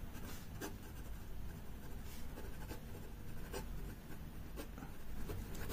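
Marker or chalk scratching across a board during an accounting lesson, a continuous faint rubbing with soft irregular strokes and taps, close and quiet with no talk.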